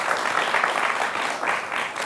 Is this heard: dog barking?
no